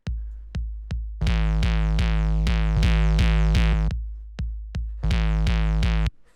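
Booming 808 kick drum distorted through an amp plugin in an electro beat, with short isolated hits, then long sustained droning notes full of gritty overtones, loud and alone.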